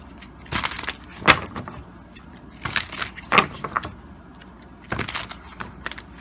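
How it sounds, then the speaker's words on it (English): A deck of Archetype Cards is shuffled in a few short, crisp riffling bursts separated by pauses, close and moderately quiet. "Let's finish shuffling here. Give a really good shuffle."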